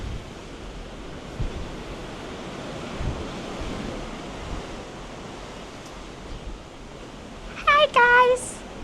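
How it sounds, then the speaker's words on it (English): Rough open sea off Alaska, heard from a boat, churns and roars in a steady broadband wash with wind buffeting the microphone, and a brief high chirping call near the end. "we have a boat, and the majestic sea rages on"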